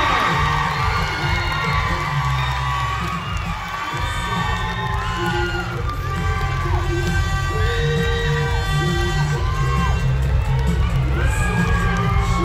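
A large pageant crowd cheers, screams and whoops for a semi-finalist at Miss International Queen Philippines, a loud, continuous roar of shrill voices with music underneath.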